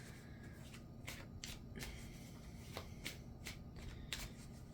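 Hands shuffle a deck of playing cards nearby, several quick riffling bursts spaced over a few seconds, quiet and close with no talking.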